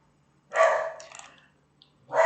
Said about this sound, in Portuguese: ignore esse latido que é do meu cachorro.